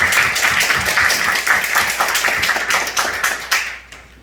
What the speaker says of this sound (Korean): 박수로 하나님께 한번 올리겠습니다.